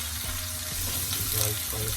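Seasoning of peppers and onion frying in a pan for sweet and sour pork, a steady close sizzle with faint clinks and stirring throughout.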